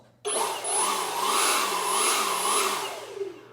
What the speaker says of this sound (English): we have got the Ego 765 brushless leaf blower